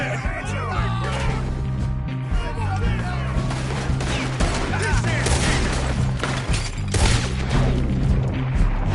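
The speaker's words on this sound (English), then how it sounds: "Shoot that man!" Dense gunfire in a shootout in the video game Red Dead Redemption 2, continuous rapid shots and booms over a busy game soundtrack, loud and steady across the whole stretch, with shouting in between.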